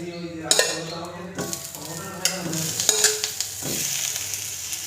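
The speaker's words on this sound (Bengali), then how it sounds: "টমেটোগুলো শুকনো ফ্রাই প্যানে একটু কিছুক্ষণের জন্য ভেজে নেব" Tomatoes dropped into a hot, dry frying pan with no oil: clattering knocks and metallic clinks of pan and utensil ring out, then a rising sizzle and hiss fills the rest, close by and without talk.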